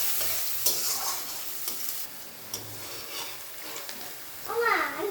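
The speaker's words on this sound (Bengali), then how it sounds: "এবার আমি পেঁয়াজটাকে লাল লাল করে ভেজে নেব।" Onions frying in a pan for a thin fish curry, a soft continuous sizzle broken by stirring scrapes, with a brief voice-like sound near the end.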